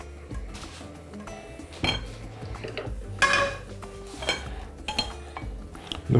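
Metal clatter and clinks of a frying pan set down on a gas stove in a home kitchen, with a few sharp knocks and scraping of cookware, close and moderately loud, no talking.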